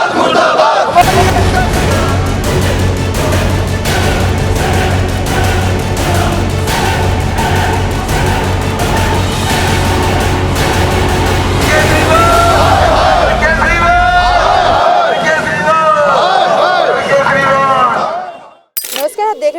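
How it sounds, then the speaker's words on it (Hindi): Sanitation workers at a municipal staff protest in Shalimar Bagh, Delhi, chant slogans together in a loud, continuous crowd roar with rhythmic shouted bursts, fading abruptly near the end. "यहाँ पर सफाई कर्मचारी लगातार अपनी मांगों को लेकर प्रदर्शन तो कर रहे हैं"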